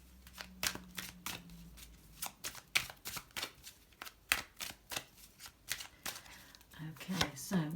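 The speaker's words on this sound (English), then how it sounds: "just pull the other cards for you" Tarot cards are pulled and shuffled from a deck in a series of crisp, close papery flicks and slaps at an irregular rhythm, with soft speech at the end.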